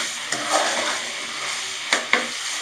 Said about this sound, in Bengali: তো এটাকে ভালো করে আরেকটু কষাবো।